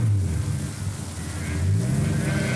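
A car engine drones and revs unevenly, its pitch rising and falling as the driver hunts for second gear, close and fairly loud.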